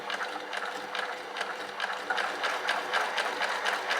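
A Babylock Primo sewing machine runs a simple stitch, giving a steady, close, fast mechanical clatter of needle and gears with a quick ticking rhythm that picks up slightly partway through, with no talking over it.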